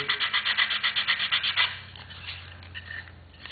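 Rapid rhythmic rasping of sandpaper rubbing back and forth on a washer, about a dozen quick strokes, then a few slower scrapes.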